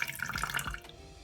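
A small splash of water poured into a homemade aloe vera hair detangler, a short close trickle with a few gurgling drips lasting about a second.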